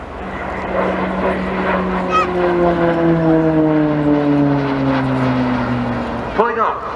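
A propeller-driven aerobatic display plane at an air show flies an inverted pass with a loud, steady drone whose pitch slowly falls as it passes, and a brief rasping flutter near the end.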